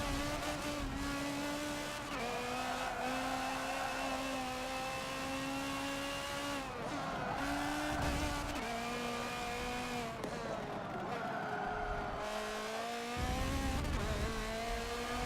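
Race cars in an endurance racing video game drone past continuously, their engines holding steady pitches with brief shifts and dips as cars pass one after another, loud and unbroken throughout.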